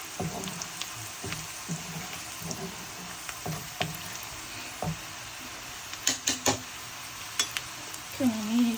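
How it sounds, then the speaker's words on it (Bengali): Green chilies fry in a pan for a shrimp and eggplant curry, a low sizzle under scattered stirring scrapes and a few sharp utensil clicks against the pan, with no talking. "গ্রেভিটা এতক্ষণ পর্যন্ত ভাজি করব যতক্ষণ পর্যন্ত কাঁচা গন্ধটা চলে না যায়।"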